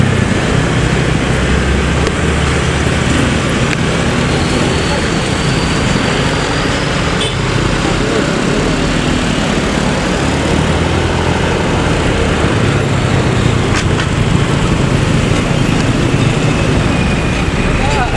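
A Santoso bus engine rumbles steadily amid dense, congested traffic on the old Pantura road near Subang, a continuous broadband roar with low engine drone throughout.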